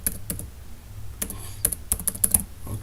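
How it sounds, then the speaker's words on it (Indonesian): Someone types on a computer keyboard, producing a close series of light, irregular key clicks that speed up into a quick burst toward the end, with no talk. "Saya ingin mengetik judulnya"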